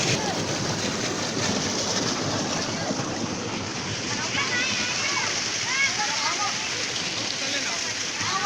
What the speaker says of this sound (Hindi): ये ट्यूबवेल है, इसका ये पानी जा रहा है खेतों की तरफ जाएगा